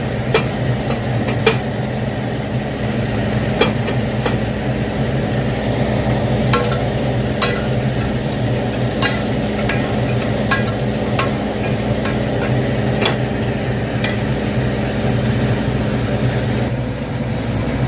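Dried prawns frying in oil for a curry, with a steady crackling sizzle close by and sharp pops and spatula taps at irregular intervals, no talking.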